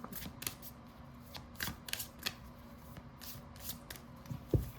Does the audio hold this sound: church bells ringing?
no